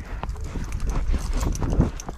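Horse hooves clip-clop in a busy, irregular rhythm of close, repeated strikes that runs steadily for the whole two seconds.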